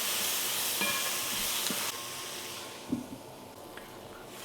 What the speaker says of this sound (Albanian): Tash do i lejmë të skuqet